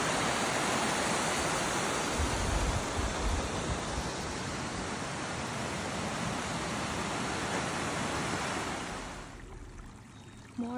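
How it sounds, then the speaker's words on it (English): Meltwater from snow rushes steadily along a mountain road gutter near Tioga Pass, a broad continuous watery roar that fades down near the end. "More water seeping out onto the road. Melting snow."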